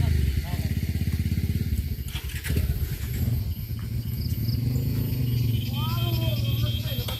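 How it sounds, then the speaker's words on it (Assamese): Several motorbikes started at the Coramore tea estate chug with a close, loud, rapid putter that settles into a steady idle, while people talk over the engines. "ষ্টাৰ্ট দিলে বাইকবোৰ"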